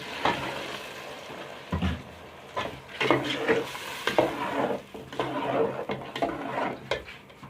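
Ginger garlic paste is stirred into a hot frying pan for a beef pulao, with steady sizzling under repeated scraping strokes of a spoon, loud and close, no talking.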